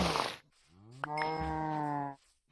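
A Minecraft cow gives one long, low, wavering moo, loud and close, after a short burst of noise, with near silence around it.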